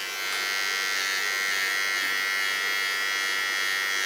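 A small electric hair clipper buzzes steadily at close range while trimming hair for an asymmetric bob cut, a continuous high whine with slight shifts in pitch as it moves.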